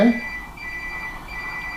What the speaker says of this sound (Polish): dzwoni telefon o tej godzinie